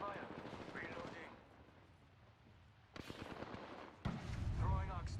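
Rapid bursts of gunfire in a multiplayer shooter game, with sharp loud shots cutting in near the end over steady background game noise, while a voice talks briefly at the start.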